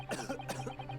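A character in the video game The Great Ace Attorney gives two quick, close coughs, like a harsh throat clearing, with no talk.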